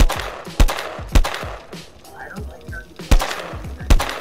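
An SKS rifle fires in the video game Will to Live Online, sharp single shots spaced about half a second to a second apart, loud and close, with a soft tonal blip from the game between them.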